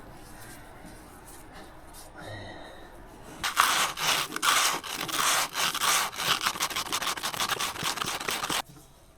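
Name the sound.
sanding a burned electrical contact on an old tractor dozer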